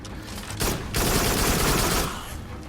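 Gunfire in the VR shooter Farpoint, bursts of rapid shots in two clusters, the second longer and sustained, loud and close.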